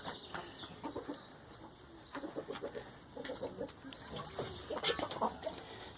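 Laying hens cluck in repeated short bursts close by on a farm, a steady patter of fowl calls over faint background noise.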